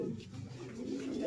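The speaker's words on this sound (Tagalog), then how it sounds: "Isa ating kalapate." A racing pigeon coos in a short, soft, low throaty burble, close by against a faint background hum.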